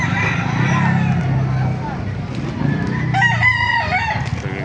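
Roosters crowing at a chicken farm in Baliuag, Bulacan, a clear nearby crow near the end over a busy outdoor background, with people talking throughout.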